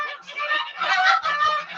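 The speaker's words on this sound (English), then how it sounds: "Oh, here we go with the geese again." Geese honking loudly and continuously at a chicken breeding farm, a dense overlapping flock chorus of harsh nasal calls with no pauses, close by.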